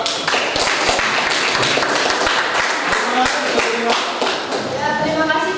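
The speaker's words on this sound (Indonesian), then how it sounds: "tepuk tangan untuk kelompok 2" A classroom group applauds for a presenting group, with dense, loud, close clapping throughout and a teacher's voice over it near the end.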